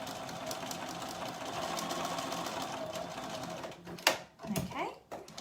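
A sewing machine runs steadily, stitching elastic into the waistband of a summer skirt, a continuous close whir for about four seconds before it stops and a few handling noises follow.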